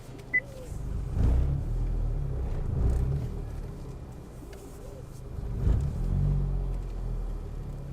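A 2016 Milano Red Honda Civic Type-R GT rolls in at low speed, a steady engine rumble with gentle swells of throttle and no talking.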